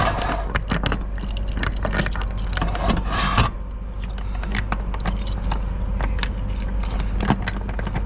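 A padlock and metal hardware are handled at a parked trailer, producing close, irregular jangling clinks and rattles for several seconds, with a faint low vehicle hum underneath and no talk.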